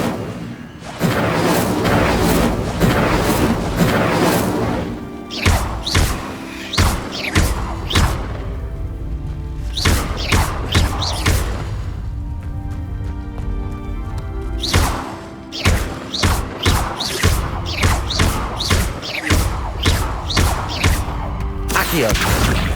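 Fire spell effects in the Hogwarts Legacy video game, loud repeated thumping bursts and whooshes in irregular clusters over a busy game soundscape with background music.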